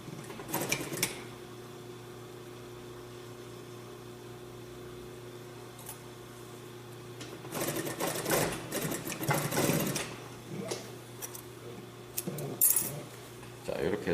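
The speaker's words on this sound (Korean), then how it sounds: "이렇게 접어서, 이렇게 박음질 해주면 되겠습니다." A sewing machine stitches a fold while attaching a concealed zipper to a skirt or dress. It runs in a couple of short, fairly close bursts over a low steady hum and quiet pauses.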